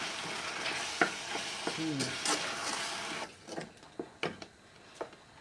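A spoon stirs peeled chestnuts through thick syrup for chestnut cream, giving a soft wet bubbling hiss that quietens partway through into sparse scraping knocks against the pot.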